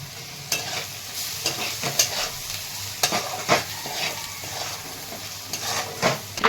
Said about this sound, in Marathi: चटणी मीठ छान परतलेलं आहे